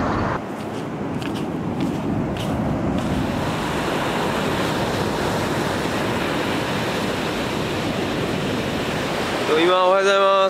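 Ocean surf rolls continuously onto a beach on the coast at Hamamatsu, Japan, a steady loud wash with wind buffeting the microphone, and a voice begins talking near the end.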